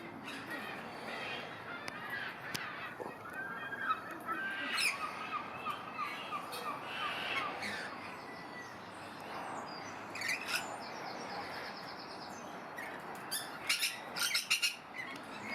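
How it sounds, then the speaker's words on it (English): Lorikeets at a wildlife park chatter and call in scattered sharp chirps and screechy squawks, some close and some farther off, with quieter stretches between bursts and a soft ambient hum underneath. "And we've located the lorikeets."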